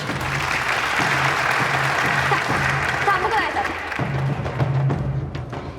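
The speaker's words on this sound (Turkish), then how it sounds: "O zaman ilk yarışmacılar için bir alkış." Studio audience applause on a Turkish TV competition show, dense clapping with some talk over it and a low rhythmic hum or music pulsing underneath.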